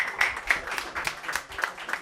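A small audience claps at an evening talk, a sparse, uneven patter of a few hands with separate claps standing out, fairly faint and steady throughout.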